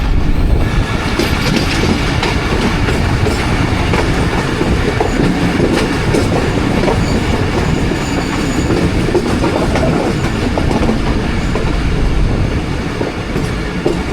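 Khyber Mail passenger train running on rails between Rawalpindi and Attock, a loud, close, continuous rumble with rhythmic clickety-clack of wheels over rail joints and faint squeals, steady throughout with no voices.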